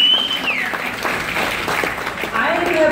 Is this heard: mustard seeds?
no